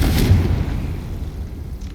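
A deep, loud blast from the Confringo fire spell in Hogwarts Legacy, a single heavy boom at the start that decays into a low rumbling tail.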